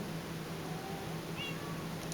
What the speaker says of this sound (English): You probably hear those meows.